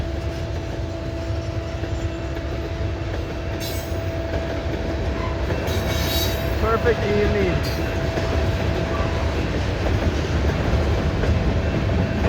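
A CN freight train passes with a constant rumble of cars and brief wheel squeal, and a steady tonal hum runs underneath. A person speaks briefly over the noise.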